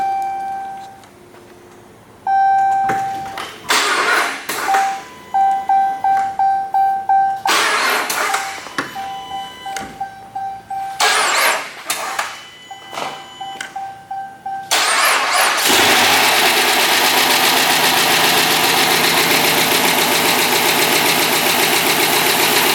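A Dodge Shaker muscle car that has sat for a while cranks several times in uneven bursts, then catches and settles into a loud, steady idle with a ticking noise, close up and with no talking.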